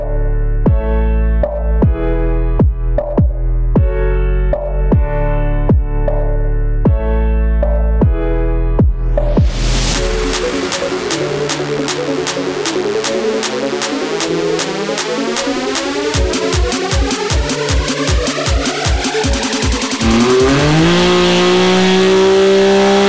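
A Can-Am X3 DSRS turbo side-by-side with a Vivid Racing big cam drop-in kit runs on a dyno: several sharp blips of the engine, then a long, loud rev that climbs steadily in pitch toward the end.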